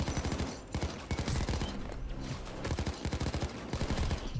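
Rapid automatic gunfire from a weapon in PayDay 2, a steady stream of loud, evenly spaced shots firing in quick bursts with only brief pauses throughout.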